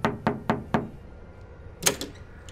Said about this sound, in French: toque à la porte frénétiquement